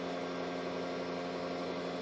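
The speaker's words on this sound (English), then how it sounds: "This is going into one of our vacuum chambers." A fairly large vacuum chamber, big enough for a 5-gallon pail, runs to degas silicone, giving a steady, even mechanical hum with a tonal drone that holds unchanged throughout.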